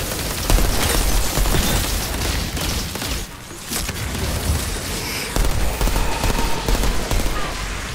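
Outriders game combat brings heavy bursts of gunfire with booming grenade blasts, loud and nearly continuous with a brief lull in the middle, and a player speaks over the action.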